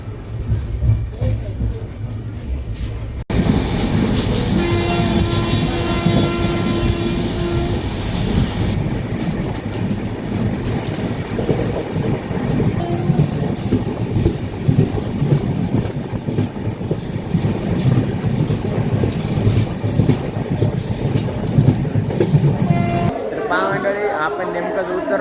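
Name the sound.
passenger train running on rails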